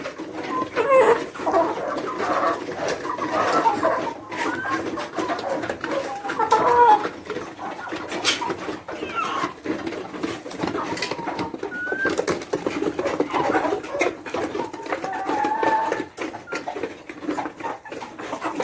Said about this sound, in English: You can see the roosters.